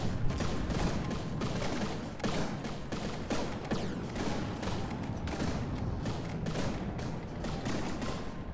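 Missiles strike in the naval combat game From the Depths, a rapid, continuous barrage of sharp impacts and blasts that hits repeatedly across the whole stretch, at moderate loudness.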